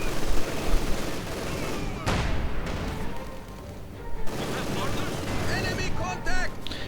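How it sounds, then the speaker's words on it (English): Mortar rounds impact in a World War II strategy game battle between Soviet and German forces, a dense spread of booming explosions and crackling gunfire layered with distant battle noise, under a narrator's continuous commentary. "Mortar rounds impacting, but not quite doing anything."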